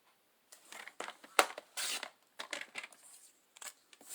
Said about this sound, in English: So I'm just going to cut it down just a little bit.